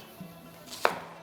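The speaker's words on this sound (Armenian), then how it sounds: "Մանր կտրատենք սոխը։" A knife chops onion on a cutting board with one sharp, close chop after a faint earlier tap, in an otherwise quiet kitchen with no talk.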